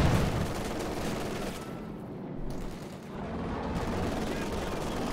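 Machine gun fire and other battle noise in the strategy game Company of Heroes 2 form a dense, rumbling din that briefly thins in the middle.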